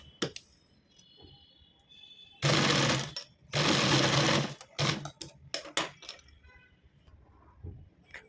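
A sewing machine stitching cloth to make blouse latkans, running in two loud sustained bursts and then short stuttering runs, with light clinks and handling noise between.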